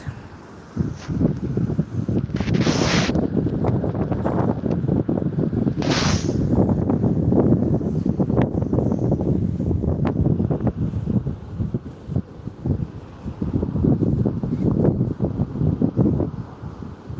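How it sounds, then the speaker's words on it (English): Strong wind gusts buffet the microphone at seaside rock pools, with a continuous roar of wind and water and a few sharp bumps, steady throughout with no voices. "It's windy"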